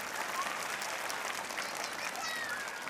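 Audience applause at a school fancy-dress event welcoming young children from junior KG to class 4, a faint, steady patter of many hands clapping for a few seconds without pause.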